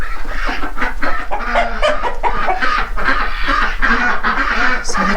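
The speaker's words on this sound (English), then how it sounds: "So the chickens are going crazy." Chickens in a winter barn coop clucking and squawking excitedly, a dense, continuous flock chorus close by with overlapping calls throughout.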